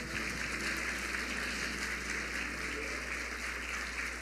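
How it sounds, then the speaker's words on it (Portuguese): A church congregation at a women's conference claps in praise, a dense, continuous wash of applause over a steady low hum. "Você pode aplaudir o nome do Senhor."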